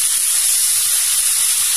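Tomato dropped into a pan of fried chicken: a loud, continuous steamy hiss and sizzle, close and even across the short moment, with no speech over it.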